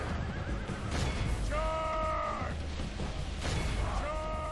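Horses neighing in a Total War video game battle, two loud shrill whinnies ringing out over a dense roar of clashing combat and crowd noise.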